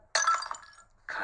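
Glass mason jars shatter in a sudden crash of breaking glass that rings out and decays over about half a second, followed by the start of a second loud break a moment later.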